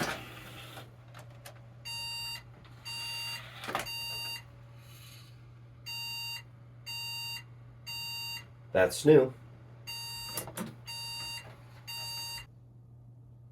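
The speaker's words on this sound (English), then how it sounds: "I don't know what that beep was, what that beep code was. 3 beeps." A computer motherboard POST beep code: short electronic beeps repeat in a steady series against a constant low hum, briefly interrupted by a few clicks and a quick spoken remark.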